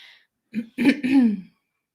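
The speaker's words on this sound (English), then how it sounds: "I actually did need to clear my throat" A single person clears their throat up close, two or three rough guttural bursts over about a second, with silence before and after.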